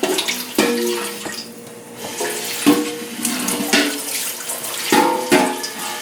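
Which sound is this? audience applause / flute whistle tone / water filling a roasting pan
water filling a roasting pan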